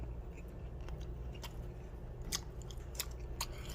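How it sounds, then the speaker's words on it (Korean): Crunchy bites and chewing of crispy air-fried garlic chicken thigh, close and intimate, with sharp crackling crunches repeating every half second or so over a low steady background. "바삭바삭한 구운 닭다리살 치킨 먹는 느낌"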